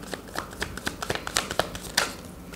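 A tarot deck being shuffled close up, a quick run of papery riffling and snapping card flicks in uneven bursts for a couple of seconds, with no voice over it.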